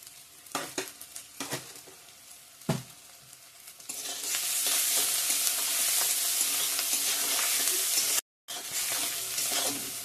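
Chopped onion sizzles and fries in hot oil with salt in a pan, with stirring scrapes and taps at first, then a steady loud sizzle for most of the clip with a brief cutout near the end.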